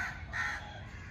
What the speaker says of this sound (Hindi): कौवे कितना बोल रहे हैं